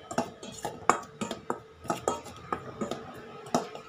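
A spoon taps and clinks against a bowl while chocolate cake batter ingredients are mixed, making a steady run of close, moderately loud knocks, roughly two or three each second.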